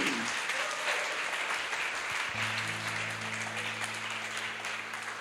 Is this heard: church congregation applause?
yes